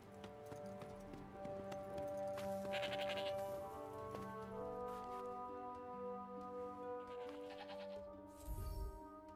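Sheep bleat a few times over a steady Forspoken game soundtrack with hoof-like clip-clop steps, one final bleat close and loud near the end.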